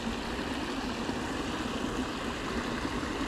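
A waterfall on a small creek, heard up close as a steady, even rush of falling water that fills the whole stretch without pause and with no voices.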